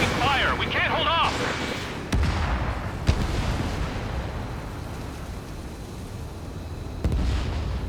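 Enemy fire and explosions in an Ace Combat 7: Skies Unknown aerial combat mission: a steady roar with sharp blasts at intervals, while radio voices talk over the battle.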